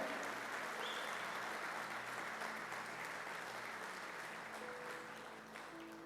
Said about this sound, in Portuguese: aplauda Jesus